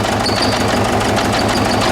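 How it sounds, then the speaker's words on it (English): A Ford Ranger engine idles with a misfire, a loud close rough running drone with an uneven pulsing beat throughout. "It's got a little bit of a misfire there"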